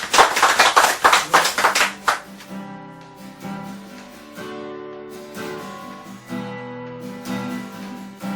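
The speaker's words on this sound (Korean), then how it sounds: "하나님께 영광의 박수 드립니다" A church congregation claps briskly in quick rhythm for about two seconds, then the clapping stops and sustained keyboard chords ring on alone.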